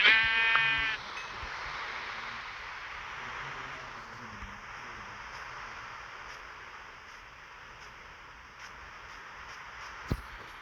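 In Minecraft Pocket Edition (Bedrock), a sheep gives one short, wavering bleat at the start. Faint hiss follows, with a single soft click near the end.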